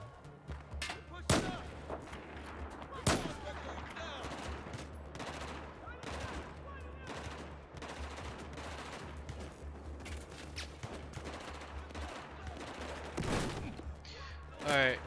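Gunfire from a Battlefield 4 campaign battle: dense bursts of rifle and machine-gun shots with several sharp loud cracks over a steady low rumble, continuous for the whole stretch.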